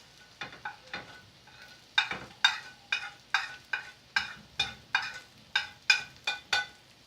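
Garlic and all-purpose flour sautéed in a pan for white sauce pasta: a run of sharp, regular scraping stirs over a quiet sizzle, fairly close and clear with no talking.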